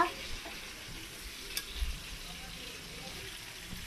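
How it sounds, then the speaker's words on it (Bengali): Potatoes fry in hot oil in a pan for a spiced potato curry, giving a steady, close sizzling hiss with a few soft stirring knocks; no one speaks. "আলু ভাজা হচ্ছে, তারপরে আলুর দম হবে"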